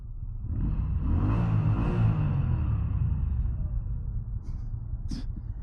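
A 2023 Moto Guzzi V9 Bobber SE motorcycle engine rumbles steadily while riding, a low continuous drone that swells slightly early on and then holds, with a short sharp noise near the end.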